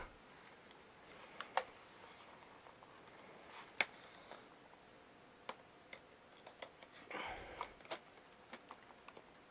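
Detachable number pad of a Mad Catz S.T.R.I.K.E 5 gaming keyboard clicking into place: a few sharp, close plastic clicks and ticks spaced irregularly, with faint handling rustle between them and no voice.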